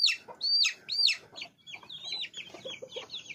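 Young desi chicks about one month old peep and chirp in a quick, bright run of calls, close and fairly loud, with soft clucking murmurs beneath and no talking.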